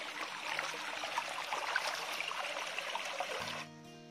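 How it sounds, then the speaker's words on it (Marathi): Feet wade through a shallow forest stream, the water sloshing and trickling in a continuous close splashing that stops abruptly near the end, leaving only a faint hum. "हा खूप दिवसांनी असं पाण्यातून चालतंय."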